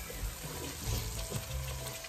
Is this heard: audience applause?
no